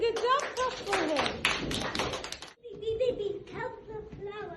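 Second-grade children in a classroom clap in a burst of quick, overlapping claps, then a few scattered claps follow, with voices speaking over the applause.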